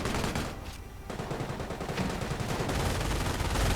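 A loud, dense, continuous rattle of MG42 machine gun fire sounds up close in a World War II strategy video game battle, mixed with other gunfire.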